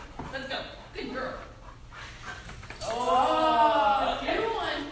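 A rescued pit bull whimpers and pants with soft whines, close by, growing louder and more strained toward the end; a person speaks over parts of it.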